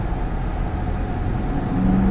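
Front-engine sports car with a near mid-engine feel, its engine giving a steady, deep rumbling growl that holds close and loud throughout, swelling slightly near the end.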